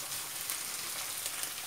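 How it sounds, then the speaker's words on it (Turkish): Pinecone-shaped manti made from yufka pastry fry in plenty of hot oil, giving a constant, even sizzle with light crackle throughout. "Bol yağda kozalaklarımızı kızartacağız."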